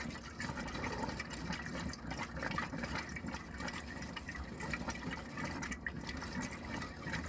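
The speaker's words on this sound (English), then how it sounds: "So you'll hear it, all the air coming out." Water rushes and gushes from a tap in a 2018 Auto-Sleeper Warwick XL motorhome with a constant, noisy churning and irregular spluttering bursts as air is forced out, with no voices.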